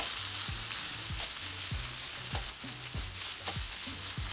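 Flour frying in a pan over medium-low heat keeps up a constant soft sizzle, while a utensil stirs it in regular strokes about every half second.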